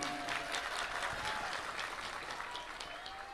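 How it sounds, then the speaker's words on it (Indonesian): Crowd applause from a rain-soaked religious gathering in Sirandu village, Purbalingga, a steady dense clapping wash that holds at an even level, with a faint tonal whine running through it. "Tepuk tangan untuk Sirandu."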